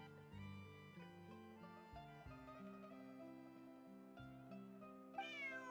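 A cat in a video game meows once near the end of a quest scene, over steady layered background music that fills the whole stretch.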